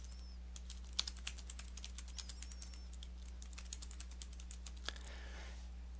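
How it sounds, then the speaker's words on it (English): Quiet, steady tapping of keys on a computer keyboard, a run of light clicks with a couple of slightly sharper strokes, heard close up against a low constant hum. "then you begin typing your first line"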